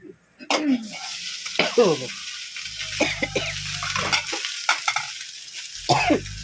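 A home cook stirs cumin and spices frying in a pan, with repeated scraping stir strokes over a steady sizzle, up close and fairly loud, with no talk.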